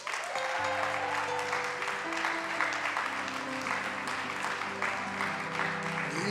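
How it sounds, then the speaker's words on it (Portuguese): Church congregation applauding during a sermon, a steady wash of many hands clapping throughout, with sustained keyboard or organ tones droning underneath. "bate uma palma aí, aplaude ao Senhor aí"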